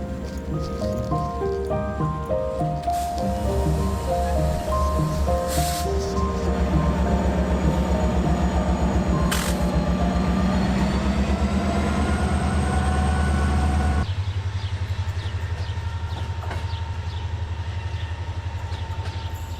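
A train rolls steadily along the rails near Făgăraș, Romania, with a continuous rumbling drone and rhythmic clatter, loud and close, with a brief squeal near the end.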